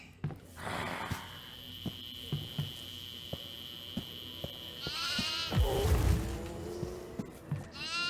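Goats bleat in the Devour video game farmhouse, a couple of wavering cries mid-clip over scattered light taps and footsteps, with a steady hum in the background.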